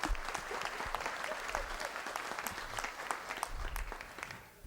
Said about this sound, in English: Would you move to the very edge of your seat and applaud as loudly as you can?